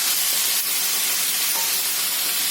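Tomato bhaji sautés in a pan, the chopped tomatoes sizzling and hissing steadily while being stirred, with faint scrapes over a continuous bright frying sound and no talk.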